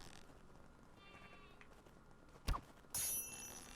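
A single sheep bleats briefly in the survival game Craftopia, faint against a steady game background, followed by a sharp hit and a bright chiming effect.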